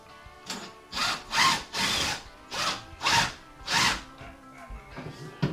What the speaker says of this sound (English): we're going to have to drill another hole and try to get that into that corner